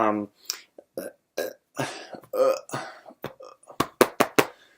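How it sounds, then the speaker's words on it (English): A series of loud, close burps from a person, several in a row with short gaps and a quick run of sharp eructations at the end. "I'm trying to burp it all back up because my stomach is rejecting it"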